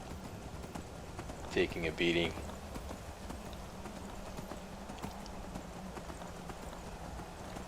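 A short burst of clip-clopping hooves near the middle, over steady game ambience in Skyrim, with a voice talking throughout.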